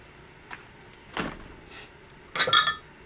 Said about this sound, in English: these are Pyrex glass, and this is the measuring cups that we put the plastisol into